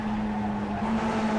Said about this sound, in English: Downshift a little bit early there, really redlining that engine.